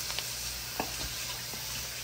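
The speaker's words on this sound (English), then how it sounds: "You see it's sizzling? I like when it sizzles." Fish chunks coated in masala sizzle in a pan, a steady crackling fry broken by light stirring scrapes and small pops, close and moderately quiet.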